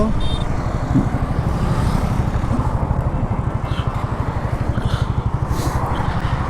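A Team Suzuki group of motorcycles rides in an orderly rally at Purbachal, with a steady, close, pulsing engine drone running throughout while someone talks over it.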